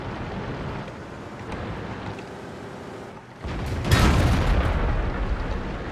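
Tank gun hit in the World of Tanks video game: a steady mechanical rumble, then a loud low boom strikes midway and rolls on heavily to the end.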